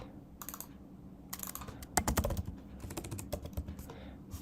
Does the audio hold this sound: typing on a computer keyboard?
yes